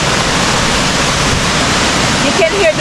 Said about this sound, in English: You can hear the burst of the water. You can hear it going down there.